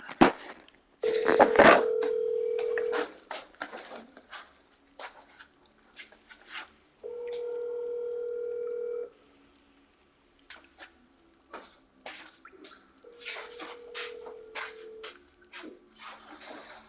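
A phone call's dialing tone in the Metro Exodus video game: three steady, long tone bursts of about two seconds each, evenly spaced with gaps between, standing alone over faint background clicks.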